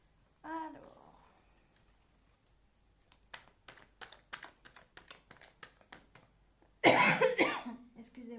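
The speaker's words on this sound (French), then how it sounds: "Je suis désolée si je tousse, mais je suis malade" A sick woman coughs once near the start, then a run of sharp clicks and a loud burst of harsh coughing toward the end, close to the microphone.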